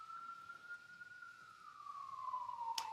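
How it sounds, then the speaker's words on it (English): An ambulance siren passes outside as a single sustained wailing tone that slowly drops in pitch, faint and distant, with a brief sharp click near the end. "the ambulance always comes at the right time"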